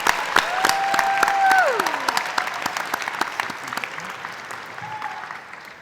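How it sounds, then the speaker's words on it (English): Commencement audience applauding university graduates, a broad steady clapping with scattered sharp claps, while a voice and a whistle-like tone rise briefly over it early on before the applause gradually softens. "And one last round of applause for the CCPA graduates."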